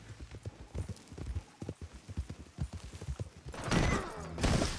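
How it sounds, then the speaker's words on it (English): Horse hooves galloping in the video game Red Dead Redemption II, a quick clip-clop rhythm of close, repeated thuds, followed by a louder rushing burst near the end. "Horse, are you okay, Alfredo?"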